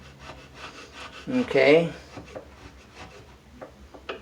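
Hand sanding on a wooden cabinet face frame to strip topcoat from its inner edges, with fine-grit paper giving soft, close rubbing strokes that swell briefly mid-clip before a person speaks quietly.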